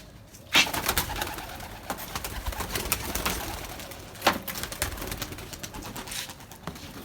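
Pigeons at a rooftop loft around five in the morning, with steady cooing and bird calls filling the scene and a few sharper flutters or calls standing out near and loud.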